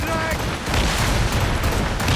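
Naval cannon fire in Assassin's Creed Rogue, a dense fusillade of overlapping booms and crackling blasts forming a loud, continuous roar of battle throughout.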